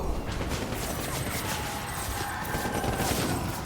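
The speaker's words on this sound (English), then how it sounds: "Get on the machine gun!" Automatic gunfire in a Death Stranding battle, a steady dense rattle of shots and crashes running loud and continuous throughout, with no pauses.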